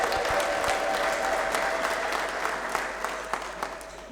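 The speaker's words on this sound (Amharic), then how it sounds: "ያቀረበን ጌታ እልልታና ጭብጨባ አምጡለት ባካችሁ" A church congregation claps steadily at a Protestant service, a dense wash of applause that stays full, then tapers slightly with scattered louder claps near the end.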